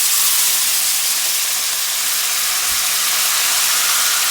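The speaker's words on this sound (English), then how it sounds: "now I'm gonna add some lemon juice, and this is gonna it's gonna make a loud noise and some steam" Lemon juice hits a hot pan of salmon and erupts into a loud, steady sizzle and hiss of steam that holds evenly for several seconds with no voices.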